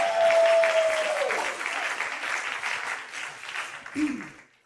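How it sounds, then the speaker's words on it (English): Applause from a comedy club audience, a full burst of clapping that swells early then gradually thins and fades, with a brief voice near the end. "Yeah, clap for that."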